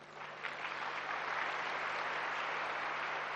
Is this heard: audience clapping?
yes